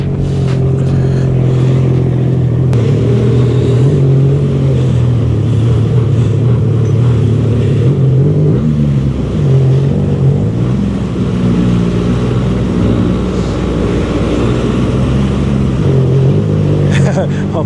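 A loud, steady boat engine drones throughout among mangroves, with low rumbling harmonics and slight revving, while people talk over it.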